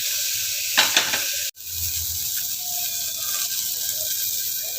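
Mustard seeds, cumin and curry leaves sizzle in hot oil in a pan, a steady close hiss with a brief stirring scrape early on and a sharp clack before the frying settles back to a continuous crackle.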